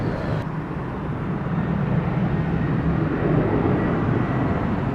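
Broad, steady engine roar from an airliner on takeoff at Sangster International Airport in Montego Bay, Jamaica, a continuous loud rumble holding level with no talk over it.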